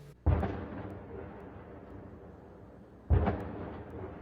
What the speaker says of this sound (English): Back-to-back explosions ringing out from the darkness and lighting up the pitch-black sky